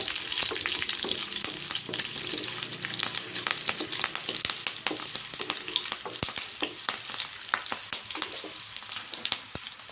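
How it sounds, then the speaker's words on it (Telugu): Four cut green chillies frying in hot oil for jeera rice, giving a loud, close, continuous crackling sizzle with stirring, and no voices. "పచ్చిమిర్చి వేసుకుంటున్నానండి నాలుగు పచ్చిమిర్చి కట్ వేసుకుంటున్నాను"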